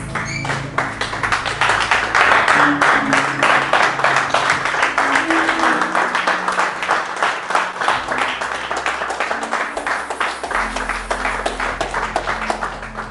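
A church congregation applauds and acclaims together, a steady wash of clapping with some voices, continuous and fairly loud from start to finish, with a low sustained musical tone underneath.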